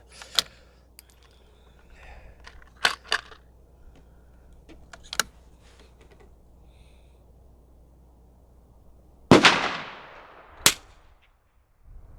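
Rifle shots fired at 4-inch and 2-inch steel target plates, five sharp cracks spaced unevenly over several seconds, the last pair loud and close with a ringing decay.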